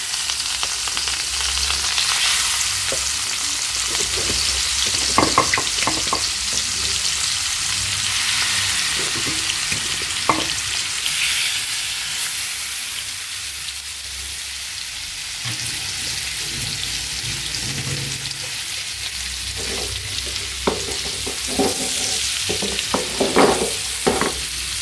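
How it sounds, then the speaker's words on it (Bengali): Fish fries in hot oil in a home kitchen, a loud, continuous sizzle and crackle broken by occasional utensil clicks as the pieces are flipped near the end of cooking. "মাছ ভাজা শেষ পর্যায়ে আমার, এখন আবার একটু উল্টে দিলাম"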